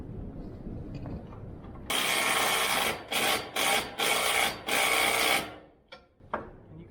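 A power tool drives bolts while rock sliders are installed on a Polaris General XP4, loud whirring bursts start and stop several times in a row, close up and without speech.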